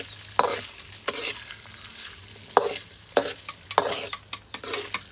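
Potatoes fry in a pan with browned garlic, a close, steady sizzle punctuated by repeated scraping and clacking strokes of a spatula stirring the pan.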